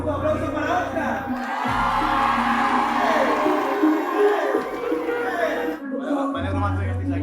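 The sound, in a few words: audience applauding and cheering for Oscar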